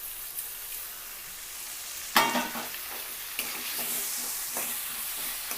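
Tomato pieces dropped into hot oil with curry leaves for an egg and potato masala curry, giving a sudden loud sizzle burst that settles into steady frying crackle with occasional stirring scrapes, close by and without talk.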